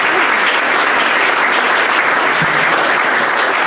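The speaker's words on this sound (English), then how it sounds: "So let's get a round of applause for Rachel." A conference audience at a tech panel event claps in steady, dense applause, loud and continuous throughout, with no talking.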